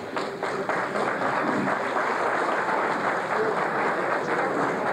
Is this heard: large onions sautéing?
no